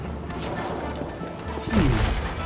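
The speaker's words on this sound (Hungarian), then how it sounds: "Hát ott a tűzijáték." Fireworks bursting in the co-op video game It Takes Two, a steady spread of crackling, thumping game noise that swells into a louder blast near the end.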